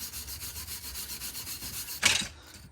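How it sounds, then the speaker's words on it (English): Crud being scrubbed off a VW Fox wheel hub, a close, rhythmic back-and-forth rubbing for about two seconds, ending in a sharper burst of scraping. "just give that a good little scrub"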